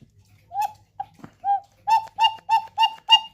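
A cuckoo clock with newly replaced bellows sounds a run of two-note cuckoo calls, starting with a few tentative tones and then settling into a steady, evenly spaced series of close, clear hoots, with no one speaking.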